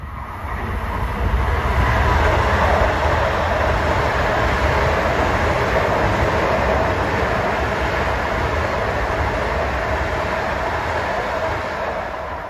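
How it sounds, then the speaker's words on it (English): An LIRR commuter train, number 656 running Long Island City to Port Jefferson, passes Elmont station with a loud, steady roar of wheels and rail that holds for the full length before easing slightly at the end. "That was 656, Long Island City to Port Jefferson, the leader of the Port Jeff rush hour fleet."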